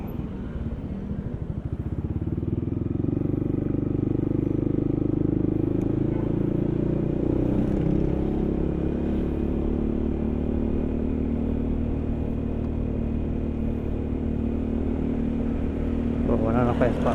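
Yamaha XMAX Connected scooter underway, its engine droning steadily close to the rider, with wind and road rumble throughout and a brief rise in revs near the end; a voice speaks over the ride.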